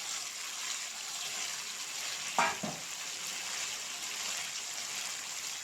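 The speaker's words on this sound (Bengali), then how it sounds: "এখন দিয়ে দেব লতি আর কাঁঠালের বিচিগুলো," Taro stolons and jackfruit seeds fry gently in an oily spice paste over low heat, giving a soft, even sizzle with one brief scraping stir midway.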